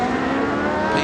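Ferrari Challenge race car at Monza screaming at high revs in a brief, loud burst, its sharp engine note carrying steadily with no talk.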